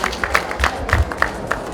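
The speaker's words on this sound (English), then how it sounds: "Can we give him a round of applause?" An audience at a coronation-week tree planting event breaks into a brief round of clapping, scattered hand claps at moderate volume mixed with low crowd rumble.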